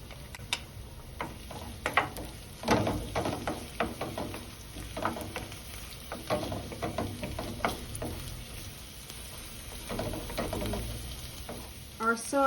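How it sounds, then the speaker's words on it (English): Onion, sweet pepper and garlic sautéing in a pan for a spinach casserole: a steady low sizzle with repeated stirring scrapes and utensil clicks, fairly close, continuous for the whole stretch without speech. "We're gonna add our onion, we're gonna add our sweet pepper, and we're gonna add our garlic, and we'll allow it to saute for a couple of minutes"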